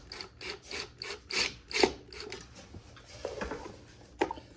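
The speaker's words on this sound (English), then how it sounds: "So, yeah, we're gonna take these three screws out" A screwdriver backs screws out of a refrigerator evaporator fan, with repeated short rasping, ratcheting turns in a steady rhythm, close and moderately quiet.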